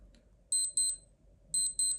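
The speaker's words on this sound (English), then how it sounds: "Normal Casio alarm." Casio Databank digital watch alarm giving two rapid double beeps, a pause, then two more double beeps; close, sharp and alone.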